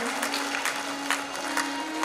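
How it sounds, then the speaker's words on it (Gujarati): Applause from staff and students opens a school children's festival, a steady patter of clapping at moderate distance with a faint hum running beneath. "જોરદાર તાળીઓથી આપણા કાર્યક્રમને ખુલ્લો મૂકીએ"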